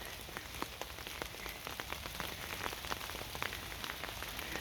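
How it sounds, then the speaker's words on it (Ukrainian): Steady rain patters onto a garden with fresh mint, a dense, even hiss of drops hitting leaves and soil, with frequent small close splashes standing out, continuous and unbroken by any voice. "як добре, що прийшов дощ"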